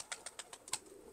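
Pigeons in a coop make a quick series of soft wing flaps and clicks, about six in a row, fairly close and clear, with a faint coo-like tone under the later beats.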